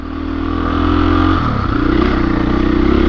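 A 2021 KTM 500 EXC-F dirt bike engine on a black diamond trail, loud and close, holding a steady drone and then dropping pitch for a moment before settling back into a rough, throbbing run.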